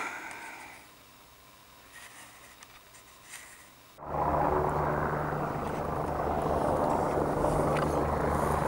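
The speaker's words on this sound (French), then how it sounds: "l'hélicoptère est reparti une 3e fois" A helicopter flies nearby among the mountains at the foot of Mont Blanc, faint at first, then suddenly swelling into a loud, steady rotor roar that holds for the rest of the clip.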